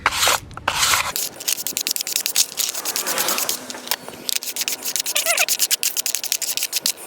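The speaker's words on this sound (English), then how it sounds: "scrape off the soot from that side" Black soot is scraped off a surface with repeated rough rasping strokes, close and loud in an uneven rhythm, with a brief knock near the start.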